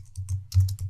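Quick clicks of fingers typing on a computer keyboard as a hex color code is entered, a rapid uneven run of keystrokes over a low steady hum.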